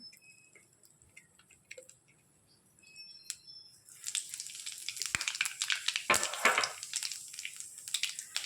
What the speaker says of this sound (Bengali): এবার কড়ার মধ্যে দিয়ে দেব কালো জিরে